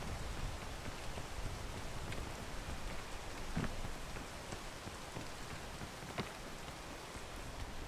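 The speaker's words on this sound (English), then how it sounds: "Raining again." Heavy rain pours in the climbing game PEAK, a dense unbroken hiss with occasional brief louder drops or crackles standing out, steady and close throughout.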